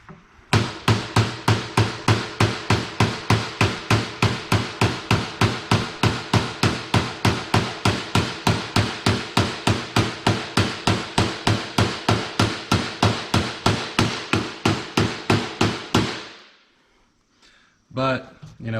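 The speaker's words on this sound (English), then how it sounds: "he's beating on a bearing with a hammer" Steady rapid hammer blows, roughly three per second for about fifteen seconds, strike a bearing on a Polaris RZR transmission during a gear reduction install; loud, close metallic knocks that then stop, followed by a brief faint clatter.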